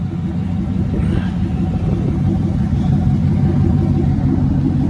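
Chevrolet Corvette C4 fitted with an LT4 engine burbling at idle, a steady, loud low rumble close by with no talk over it.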